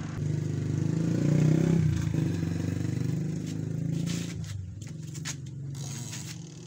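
A spin dryer washing machine motor powered on but not turning, giving a steady low electrical hum with some faint clatter and scraping, close and fairly loud, easing slightly in the last seconds.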